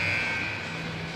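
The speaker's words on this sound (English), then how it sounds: "There's the buzzer." A hockey rink buzzer at a U16 AA game marks the end of warm-up, a steady electronic tone held through the whole short stretch at moderate loudness with no voices over it.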